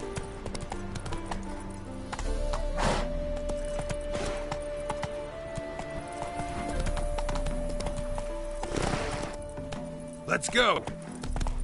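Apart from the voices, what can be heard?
horse Roach galloping, from The Witcher 3 video game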